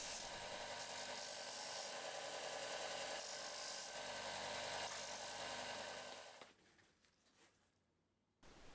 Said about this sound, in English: I'll just take it over to the sander and chamfer those edges